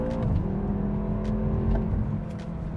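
A rear-wheel-drive BMW F10 M5 with a dual-clutch gearbox and 73,073 miles pulls hard under acceleration, a steady loud engine drone with a brief dip near the end that suggests a quick gearshift.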